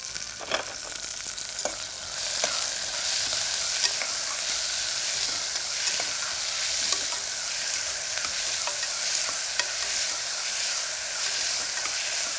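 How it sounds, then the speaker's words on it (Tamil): Onions with fennel seeds and a pinch of salt sauté in hot oil in a pan, giving a steady, close sizzle and fry throughout, with occasional clicks of stirring and no voices. "வெங்காயம் ஒரு 2 நிமிஷம் ரொம்ப அப்படியே இதுவாக வதங்கணும்னு இல்லை"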